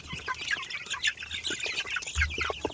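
A brood of fairly large chicks peeps in a dense, continuous chorus of high chirps, close by, with an occasional low flutter or shuffle.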